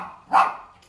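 A pet dog named Dodo gives a single short bark while playing, a brief close yip over a quiet room.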